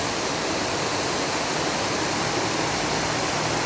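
Tha Ra Rak waterfall in Mae Sot, Tak, a dense, steady roar of falling water that fills the whole clip without a break, with no voices.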